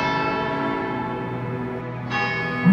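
St Mary's church bells ring out loud and resonant, their long overlapping tones sustaining, with a fresh strike entering near the end.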